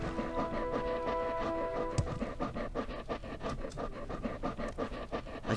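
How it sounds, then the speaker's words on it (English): A werewolf in Morrowind's Bloodmoon expansion pants heavily in quick, steady rhythmic breaths, loud and close, continuing without pause and with no talk over it. "Man, we are panting very heavily."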